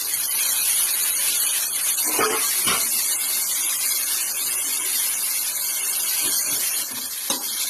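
Snake gourd sautés in a pan with salt and turmeric, producing a constant bright sizzle and hiss, with a couple of soft scrapes from stirring.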